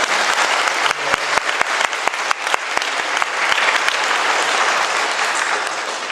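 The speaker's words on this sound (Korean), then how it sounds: "다시 한번 우리 봉사자를 위해서 큰 박수 한번 해주십시오." Church congregation applauding volunteers at the end of a Lenten Sunday Mass, a dense, steady wash of many hands clapping that fills the room and holds for several seconds, with a few sharp, distinct claps near the start.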